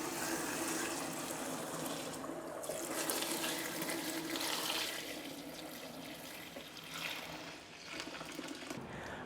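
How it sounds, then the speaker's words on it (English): Whey from cheesemaking pours steadily into a tight-weave colander, a continuous splashing stream of liquid close by that eases slightly toward the end, with no talking. "Pour the whey into a tight weave colander."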